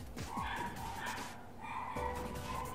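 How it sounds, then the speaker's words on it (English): A dog barks in short, repeated yips and bow-wows nearby, heard indoors without speech over it. "Please ignore the barking."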